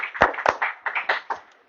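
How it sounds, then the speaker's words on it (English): Several distinct hand claps ring out in an irregular sequence at a Harikatha performance in a Pittsburgh temple, a handful of sharp, close slaps rather than a full audience ovation. "Give a big applause."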